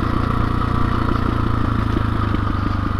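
A 2021 KTM 500 EXC-F dirt bike engine running steadily while riding on rough terrain, a loud, close, continuous throbbing thrum with rattling clatter and no speech.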